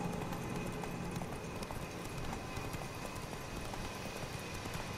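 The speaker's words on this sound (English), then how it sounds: "Since I'm overburdened, I'm gonna just ride my horse." Horse galloping in The Witcher 3 video game, a steady rapid hoof rhythm under a dense wash of game ambience, continuous and fairly even in level throughout.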